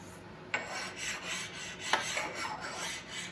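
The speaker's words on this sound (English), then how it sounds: "I'll hit it with the finer stone on this end. There's a coarse and then a fine." A fine sharpening stone is rubbed along the column of a Harbor Freight mini mill, giving a close, dry rasping scrape with two sharper strokes standing out amid continuous rubbing.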